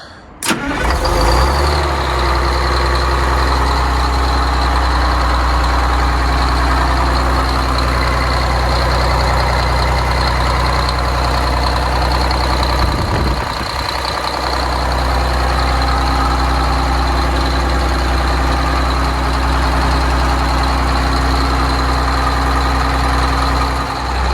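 A Detroit Diesel 6V92 engine cranks and catches, then settles into a loud, steady, rumbling idle that holds for about twenty seconds with no one speaking; the engine has a weeping coolant problem and an air leak.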